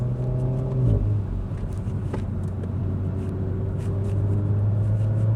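A Renault Megane RS 300 driven hard down a country lane: a loud interior engine drone with a gear change near the start, then a steady high-revving tone over road rumble and occasional bumps.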